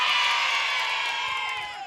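A studio audience at an Indonesian TV show shouts and cheers in unison on cue, a dense burst of many voices with whoops that holds steady, then thins out over about two seconds.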